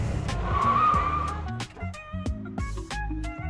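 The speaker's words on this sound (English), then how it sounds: "Let's give it a little lock up." A 2025 E-Z-GO Valor gas golf cart locks its brakes, and the tires give a loud squealing skid that fades into clattering rolling noise and sharp knocks, heard nearby.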